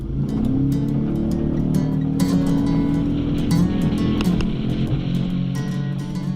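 A small speedboat off San Diego takes off at full throttle, its engine roaring loud and steady with a rising drone, while water splashes and slaps against the hull.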